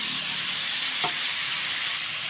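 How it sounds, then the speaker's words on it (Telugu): Raw banana pieces frying in a pan, a close steady sizzling hiss with one brief soft knock partway through. "ఇది కొంచెం సేపు వేగనిద్దాము"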